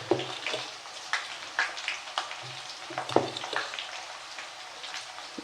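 Dosa and beetroot palya cooking in a home kitchen, with a steady soft sizzle of frying and scattered clinks and scrapes of a utensil; no talking.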